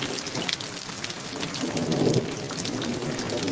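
Cartoon-style rainfall during the rainy season: steady, dense patter of rain on surfaces, evenly loud throughout with a faint low rumble, no voices.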